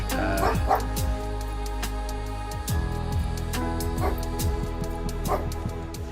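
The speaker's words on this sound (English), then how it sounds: "apologies if you could hear Daruk barking" Daruk the dog barks and yips repeatedly in pitched, whining bursts, close and fairly loud, with whimpering between the barks.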